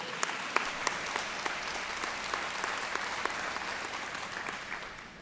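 Teachers and staff at a district opening day event applaud together, a dense, steady clapping from a large seated audience that holds evenly for several seconds with a few sharper claps standing out.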